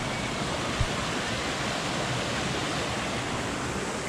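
Constant rushing of a stream through Padley Gorge, a loud, close, unbroken wash of water noise with a single faint knock near the start and no voices.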